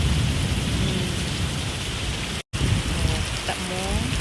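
Heavy rain pouring down in a dense, loud, continuous hiss, with a brief cut in the middle and faint voices murmuring beneath the downpour afterward.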